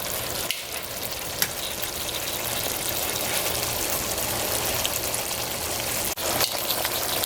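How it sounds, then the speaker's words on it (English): Pieces of steak for pepper steak sizzle steadily in a hot pan, a dense, even crackle with a few small clicks from stirring. "So I'm going to be cooking this meat well done."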